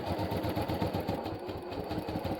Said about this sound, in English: I'm going to go ahead and sew a 1/4 inch from the edge all the way down here